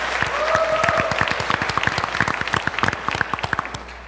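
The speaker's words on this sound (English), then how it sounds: "Big applause, please." A conference audience at a Mexico travel panel in Fort Worth applauds steadily, dense clapping near and sustained throughout with no talk over it.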